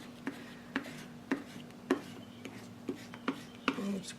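Inexpensive paint scraped in a thin layer onto a journal page, heard as a series of quiet, evenly spaced dry scrapes and taps, about eight strokes in a steady rhythm, close and faint.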